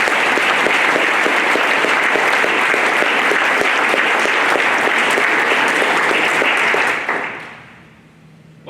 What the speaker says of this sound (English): Please give a round of applause one more time for our employers in this room.